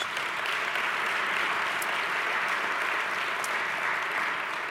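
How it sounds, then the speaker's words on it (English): Sustained audience applause for local officials at a Columbus neighborhood civic gathering, a dense, steady wash of many hands clapping near and loud throughout, with no voices over it. "Please give them a round of applause"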